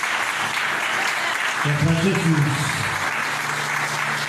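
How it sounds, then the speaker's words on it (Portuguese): A church congregation applauds in one steady, dense wash of clapping that runs the whole time, with a voice briefly speaking over it midway. "Pode aplaudir mais forte"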